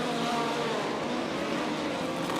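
Race car engine roaring past during a racing event, a continuous loud broadband rush that holds steady throughout with no speech.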